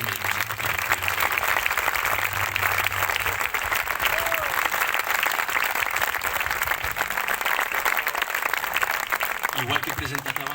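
An open-air summer concert audience with a local wind band breaks into sustained, dense applause, steady and loud for several seconds before tapering, while a voice speaks faintly over the clapping.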